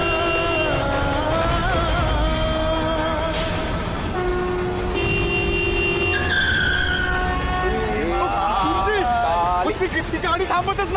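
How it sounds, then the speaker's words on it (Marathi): A car speeds toward a roadside procession and skids, tyre squeals rising in pitch over dramatic music and a busy soundtrack, with voices in the mix. "खूप वेगाने येते ती गाडी"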